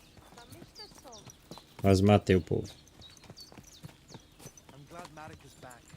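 Horse hooves clip-clop along in Kingdom Come: Deliverance II, a brief loud clatter of steps amid game characters talking and a player speaking over the scene.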